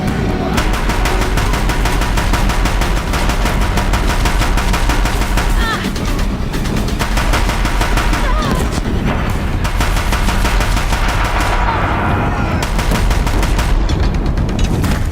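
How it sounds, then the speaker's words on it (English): Deathbringer war machines fire continuously in the Horizon Zero Dawn final battle, a dense barrage of gunfire and booms packed into a loud, unbroken wall of sound with no pauses. "If the Deathbringers keep firing, this bridge will go."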